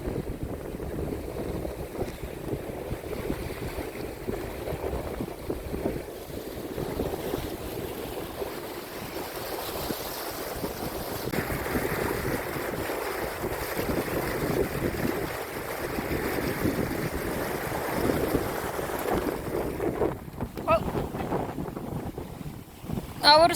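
A sailboat running at about five knots in a 14-knot wind on the Mediterranean Sea, with steady wind buffeting the microphone and a constant rush of water along the hull throughout.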